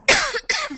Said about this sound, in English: I'm just getting over a tiny cough here.